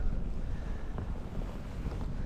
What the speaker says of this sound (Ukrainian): Ще й вітер помінявся